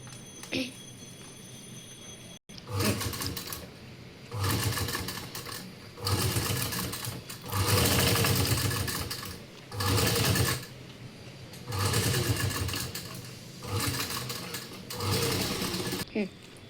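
A sewing machine stitches along a marked line on a cardboard cupboard organiser, running in loud bursts of rapid chatter with short pauses between runs, plus a brief click near the start.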